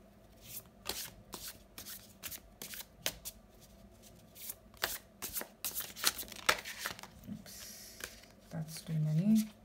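Tarot cards shuffled by hand in repeated crisp riffling bursts, close and fairly quiet, with a voice talking softly over parts of it.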